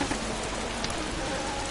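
Steady, loud rain hisses continuously through a racing game's livestreamed league round at Zolder, dense and even with no talk over it.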